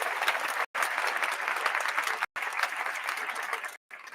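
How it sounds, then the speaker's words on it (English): A crowd gives a round of applause, dense clapping that sounds close and steady, with brief cut-outs between bursts. "Let's give Chris Swift a round of applause, man."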